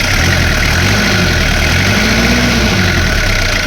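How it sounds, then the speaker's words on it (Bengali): A 2003 Toyota Hiace Super GL van engine idling, a loud, close, steady mechanical rumble with a constant low drone and no breaks. "গাড়িটা এখন স্টার্ট করা হবে দেখুন সিরিয়াল ইঞ্জিন অনেক সুন্দর সাউন্ড রয়েছে"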